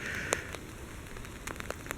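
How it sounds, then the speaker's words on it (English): Light rain falling outdoors in the early morning around garden raised beds, a faint steady patter with scattered soft drip ticks, heard from close by with no talking. "It's a little rainy out"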